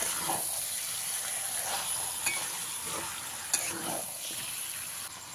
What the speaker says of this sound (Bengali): চিকেনটা দিয়ে মশলার সঙ্গে খুব ভালো করে মিশিয়ে দিতে হবে